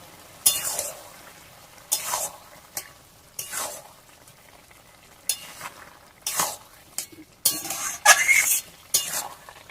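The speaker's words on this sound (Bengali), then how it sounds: "ভালো করে একবার নেড়ে নেবো।" Taro leaves (kochu shak) being stirred in a frying pan with a metal utensil: close, repeated scraping strokes in irregular bursts over a soft sizzle, with occasional clinks against the pan.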